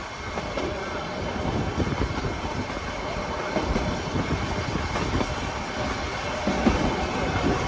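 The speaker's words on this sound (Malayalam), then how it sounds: "ട്രെയിൻ ഇതാ ഉദകമണ്ഡലം ഊട്ടിയിലേക്ക് എത്തിക്കൊണ്ടിരിക്കുകയാണ്" A Nilgiri Mountain Railway train pulls into the station at Ooty, its steady rumble and rhythmic wheel clatter running continuously and close at hand, with a faint squeal near the end.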